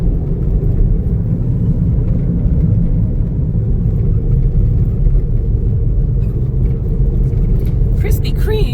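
A car sits in slow road traffic, giving off a loud, steady low rumble of engines and tyres that runs unbroken throughout, with faint higher noises near the end.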